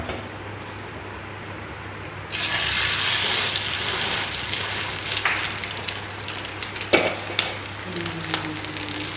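Meat pathiri dipped in egg sizzles in hot ghee in a pan, a steady close frying hiss that swells after a quiet start, with scattered crackles and small clatters.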